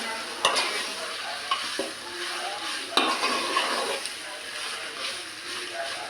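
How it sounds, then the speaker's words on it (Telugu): Fried onions and curry stirred in a pot over a medium flame for Telangana-style boti curry: a steady sizzle with scraping spoon strokes and a few sharp clinks against the metal, a voice talking faintly at moments. "ఇలా మంచిగా మిక్స్ చేసుకోవాలి గైస్."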